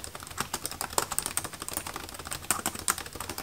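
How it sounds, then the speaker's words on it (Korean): Rapid typing on a 2022 LG Gram ultralight laptop keyboard, crisp close-up key clicks in an uneven, busy rhythm with no talking. "치는 맛이 있는 그런 키보드입니다"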